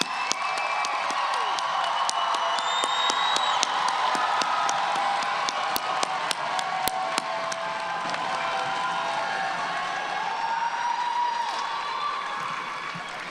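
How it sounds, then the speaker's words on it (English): Crowd applause for a graduating class of 2025 at a graduation ceremony, steady dense clapping with scattered cheers and whoops, sustained and even in level for over ten seconds, with crowd voices underneath. "How about a big round of applause for the class of 2025?"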